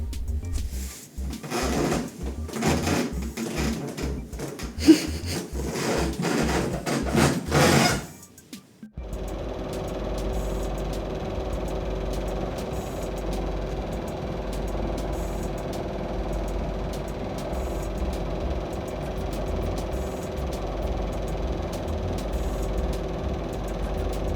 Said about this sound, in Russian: Сейчас я вставлю этот момент с работающим кондиционером.